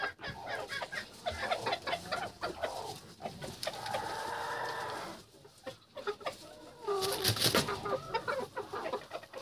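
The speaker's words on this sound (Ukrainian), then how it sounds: "Що ці півники тут роблять?" Chickens and roosters cluck and squawk in a rural farmyard among pigs and turkeys, a flurry of close, overlapping bird calls with short pauses and a louder burst of cackling near the end.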